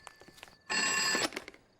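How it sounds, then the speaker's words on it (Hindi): A telephone rings once in a single loud, steady burst of bright electronic tones lasting about half a second, with faint footsteps and shuffling before and after. "अरे पापा का फोन"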